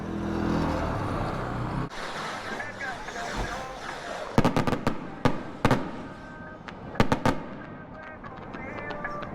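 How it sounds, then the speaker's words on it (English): Fireworks in a small town in Mexico's heartland, a series of sharp bangs and crackling pops in clustered bursts, heard from a passing motorcycle over road and wind noise. "Trying to see if there's more fireworks going to go off."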